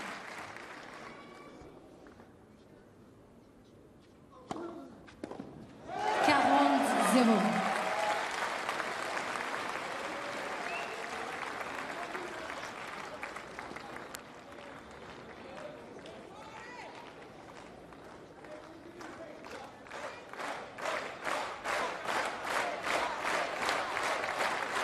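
Crowd at a French Open first-round tennis match bursts into loud, sustained applause after a quiet stretch, with cheering mixed in, then settles into rhythmic clapping that builds toward the end.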